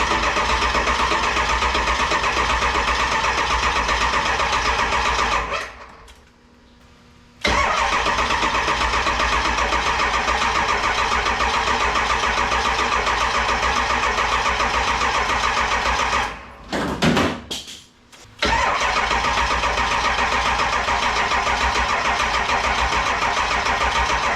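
Ford 7.3 Powerstroke diesel engine with a standalone wiring swap, cranking and running loud and close as a steady rough drone, cutting out twice to near silence before catching and roaring again.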